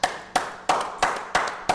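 A handful of people clapping during a live stream, six sharp separate claps spaced at a steady, moderately quick rhythm, close and fairly loud with nothing else heard.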